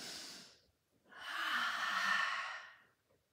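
Two audible breaths during a Pilates mat exercise, a short airy exhale followed after a pause by a longer, fuller sighing breath, close and clear with no talking.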